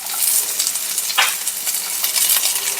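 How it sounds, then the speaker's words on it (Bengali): Chopped onions and capsicum fry in a pan, a bright continuous sizzle with a brief scraping stir partway through; no voices. "পেঁয়াজগুলোকেও হালকা ভাজা ভাজা করে নেব, নাড়াচাড়া দিয়ে নিচ্ছি"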